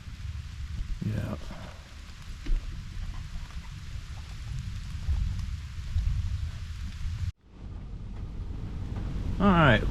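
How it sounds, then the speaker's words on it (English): Heavy rain pours down outside a parked truck, a steady wash of hiss and patter with wind noise, briefly cutting out before resuming. "It's raining pretty hard"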